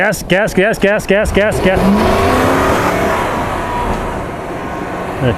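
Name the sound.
Toyota 4Runner revving and spinning tires on snow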